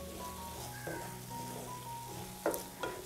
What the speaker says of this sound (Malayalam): ഇതുപോലെ നന്നായിട്ടൊന്ന് വഴറ്റി എടുത്തിട്ടുണ്ട്.